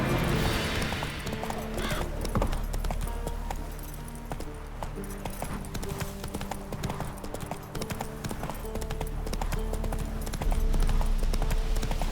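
Steady clip-clop of horse hooves on a ride in The Witcher 3, a continuous quick rhythm of hoofbeats close by with faint jingling tack, running under background game music and sound.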